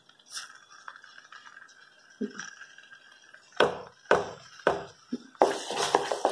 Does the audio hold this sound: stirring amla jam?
yes